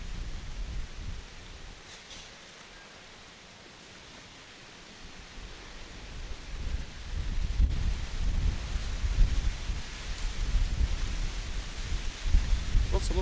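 Wind gusting outdoors by the old docks at Surrey Quays in London, buffeting the microphone with a rough rushing roar that eases briefly, then builds stronger and stays loud.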